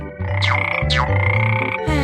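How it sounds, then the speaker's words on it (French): A cartoon frog croaks in repeated loud, close calls, each with a rising squeaky chirp on top, over a low humming tone, sounding alone without talk. "Wow, il y a une grenouille."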